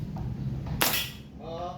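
A single sharp gunshot from a firearm cracks loudly and close at an outdoor firing session, a sudden burst with a short ringing tail, and a voice speaks faintly afterward.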